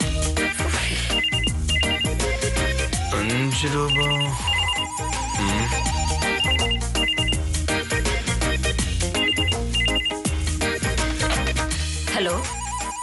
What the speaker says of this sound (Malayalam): നീ പോയി ഫോൺ എടുക്ക്, ഞാൻ അത് കണ്ടുപിടിച്ചോളാം.